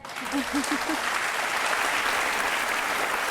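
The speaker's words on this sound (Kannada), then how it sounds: "ಚಪ್ಪಾಳೆ" An audience applauds in a television studio during a courtroom-style interview show, with steady, dense clapping throughout and a few brief vocal sounds at the start.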